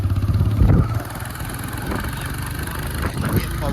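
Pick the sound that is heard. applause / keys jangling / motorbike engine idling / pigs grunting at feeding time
motorbike engine idling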